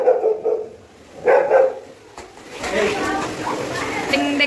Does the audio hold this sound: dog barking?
yes